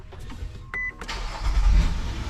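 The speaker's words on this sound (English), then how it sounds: "The car starts." A used SUV bought at auction powers up and its engine cranks and catches. A short electric whir comes first, then a rising rumble that settles into a close, steady idle.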